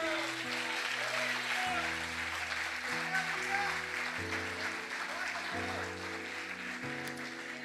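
Soft congregational applause rises at a church service beneath loud, steady keyboard chords shifting in slow blocks, with some voices present.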